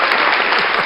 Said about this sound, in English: Another applause.